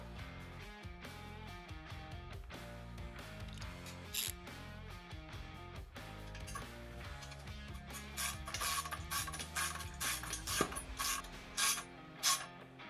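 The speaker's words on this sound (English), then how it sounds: "And for this, you just need a 7/16 wrench and 7/16 socket." A socket ratchet and 7/16 wrench tighten bolts while a Dramm MS20 100 hydraulic sprayer is assembled, giving close, steady mechanical clicking that grows busier and louder in bursts toward the end.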